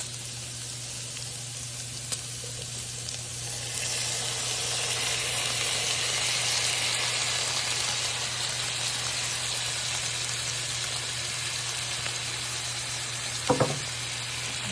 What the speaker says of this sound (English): And we're going to go ahead and add the ground beef.